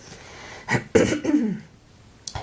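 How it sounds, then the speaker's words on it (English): Several coughs and throat-clearing bursts from one person during a live yoga class, close and fairly loud, in a short irregular cluster followed by a final small cough. "Morning cough."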